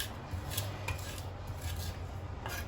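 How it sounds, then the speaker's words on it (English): Garlic is ground with salt on a cutting board, giving a soft, repeated scraping and rubbing sound at close range, steady and fairly quiet, with no talk. "the salt just acts as an abrasive, so it's kind of like grinding the garlic"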